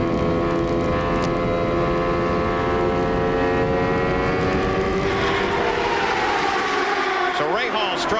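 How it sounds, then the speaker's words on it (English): A 1994 IndyCar racing engine at full throttle on track, a loud continuous droning whine with steady harmonics that shift pitch as the car passes, heard under race commentary. "Let's listen to this engine"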